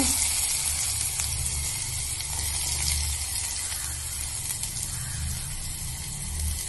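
Onions, mustard seeds and cumin fry in oil for a pumpkin curry, making a continuous close sizzle with a watery, gushing hiss and a low hum underneath, with no voices.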